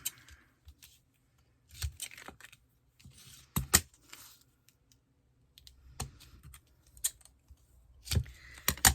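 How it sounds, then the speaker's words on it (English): Scissors snip paper during card making, a series of sharp separate cuts and clicks with quiet gaps between them, close and fairly soft, without talk. "My scissors."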